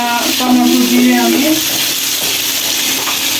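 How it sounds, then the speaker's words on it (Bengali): Pabda fish fries in a pan with a loud, steady close sizzle and occasional stirring scrapes. A voice briefly sounds under the hiss. "এখানে আমি দুপুরের জন্য পাবদা মাছ ভেজে নিচ্ছি"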